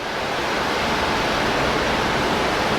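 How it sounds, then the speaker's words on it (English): Steady, dense hiss of Krown rustproofing spray fogging under a Toyota Tacoma, a continuous broadband roar at even loudness with no talk. "Once he starts spraying, I'm going to stay back because this thing, I mean, it fogs everywhere."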